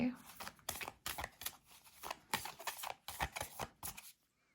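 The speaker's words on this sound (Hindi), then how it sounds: "मैं थोड़े से शफल कर लूँ" Tarot cards riffle and slap in quick, papery bursts during a shuffle, close and soft, with a voice speaking over part of it before the sound stops.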